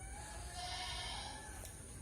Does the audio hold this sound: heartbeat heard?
no